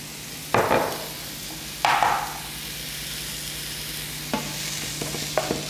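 A little oil sizzles quietly in a frying pan under a steady low hiss, broken by a few sharp scraping stirs and lighter taps from the utensil.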